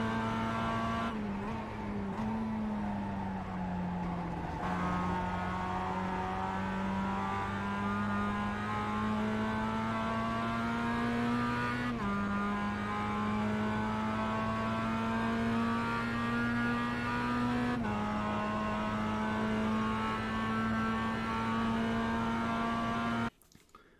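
A Mazda MX-5 in the iRacing sim drones loudly and steadily down the Okayama straight, its engine note rising in long pitch sweeps broken by quick upshifts, with a brief drop at the very end.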